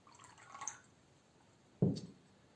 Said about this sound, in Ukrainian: І додаю до неї йорданської свяченої води.